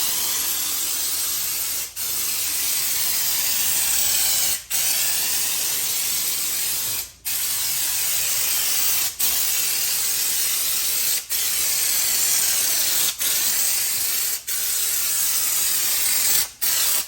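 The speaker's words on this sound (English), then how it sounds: "We can just spray this, let it sit a couple hours" A steady, loud hiss of a spray gun spraying white base coat paint on a custom truck, continuing for a long stretch with a few brief, regular breaks in the flow.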